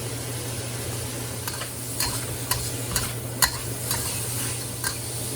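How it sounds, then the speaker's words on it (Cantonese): Onion and minced meat stir-fry together in a wok with ginger strips, a soft steady sizzle under an irregular series of crisp spatula scrapes and taps, up close and without speech. "跟住放啲洋葱"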